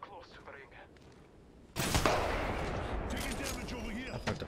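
A gunshot goes off in the Apex Legends video game, a sudden loud blast after a quieter stretch, followed by a sustained rumbling tail and further clatter of gunfire.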